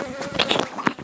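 Honey bees buzzing at an apiary, a dense, close hum with fluctuating pitch and a few louder swells as individual bees pass near, with no voices.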